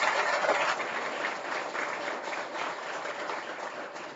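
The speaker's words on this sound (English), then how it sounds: "I want a round of applause for all the committee chairs." Sustained applause from an audience honoring committee chairs at the evening opening session of a summer seminar, a steady, dense wash of many hands clapping at even loudness throughout, slightly thin and distant.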